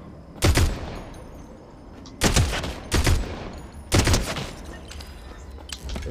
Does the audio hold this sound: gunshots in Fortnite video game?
yes